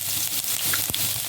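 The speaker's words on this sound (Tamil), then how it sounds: "அதுக்கப்புறம் கொஞ்சம் சாப் பண்ணி வச்சுருக்கிற பூண்டு போட்டுக்கலாம்" Chopped garlic dropped into hot oil in a pan gives a loud, close, crackling sizzle with a few sharper pops, lasting just over a second.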